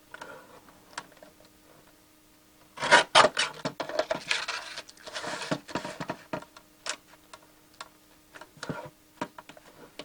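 Black card pieces being trimmed off the top of a black and white card: a close, dry rasping and scraping burst of a few seconds, then lighter scattered ticks and rubs, with no talk.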